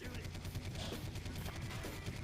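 Steady gunfire from a Wii shooting video game, with rapid dense shots running continuously under a busy game soundtrack, moderately loud throughout.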